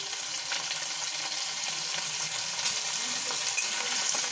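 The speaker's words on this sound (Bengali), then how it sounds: "তেলটা গরম হলে আমি এখানে রসুন কুচিগুলো দিয়ে দিচ্ছি, তারপরে আদা কুচনো আছে সেটা দিলাম, পেঁয়াজ কুচনোগুলো দিয়ে দিলাম" Chopped garlic, ginger and onion frying in hot oil, a steady close crackling sizzle that runs unbroken throughout with no talking.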